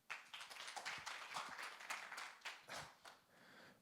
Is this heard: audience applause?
yes